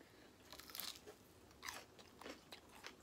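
Crisp, close crunches come in several bursts while chicken strips with a fried hot and spicy pork rind coating are bitten and chewed, quiet overall with no talking.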